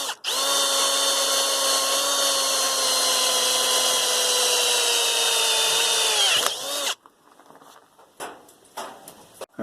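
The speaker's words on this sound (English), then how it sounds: "I'm going to make myself a hole that's big enough for a" A power drill bores a hole for a 1/4-20 bolt in a metal piece, a loud steady high-pitched whine lasting about seven seconds before stopping abruptly, followed by light handling clatter.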